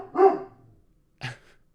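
Two barks from a dog named Bear, a long loud bark followed after a pause by a shorter second one, fairly close, with no talk over them.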